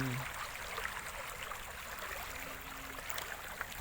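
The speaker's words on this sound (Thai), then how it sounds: "น้ำไหลแรง" Rainy-season floodwater rushes strongly through an orchard of trees and banana plants, a steady broadband wash of flowing water that continues throughout with no talking.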